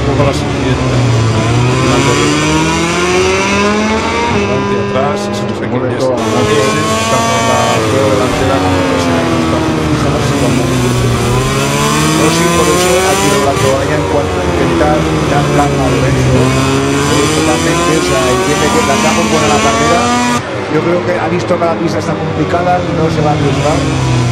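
MotoGP motorcycles race through turn one at the Valencia circuit at over 300 km/h, engines screaming loud and continuous with rising and falling pitch sweeps, while a commentator talks over the roar throughout.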